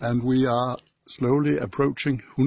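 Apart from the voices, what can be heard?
No everyday noise stands out behind the speech.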